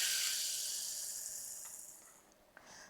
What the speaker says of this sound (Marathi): आणि असा गरम गरम तडका द्यायचा चटणीला।